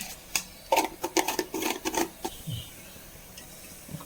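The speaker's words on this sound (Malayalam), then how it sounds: "കടുകങ്ങ് പൊട്ടിക്കോട്ടെ." Mustard seeds popping in hot oil make a quick, irregular flurry of sharp crackles and snaps that tails off into a few scattered pops.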